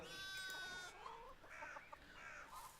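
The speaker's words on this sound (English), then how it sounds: "Can I get past the sheep? No, I cannot. They are still blocking the way." Sheep in Pentiment bleat in a few wavering calls. A strong, drawn-out bleat comes first, then shorter cries follow, all faint overall.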